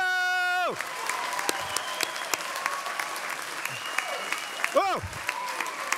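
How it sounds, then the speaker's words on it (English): At a 2012 graduation ceremony in Curnow, the audience breaks into loud clapping and cheering after a rising and falling electronic tone. Scattered shouts and a voice rise over the applause, and another swooping tone sounds near the end. "So give yourselves a really big cheer."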